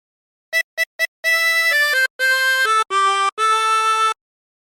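A phrase plays on a chromatic harmonica, three quick short notes followed by longer held tones in a clear, reedy, close-up line with brief gaps between breaths.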